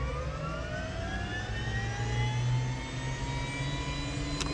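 The turbine engine of an OH-6 helicopter spools up during start, giving a loud, steady roar with several whining tones that slowly rise in pitch. It is heard close by, with no talk over it.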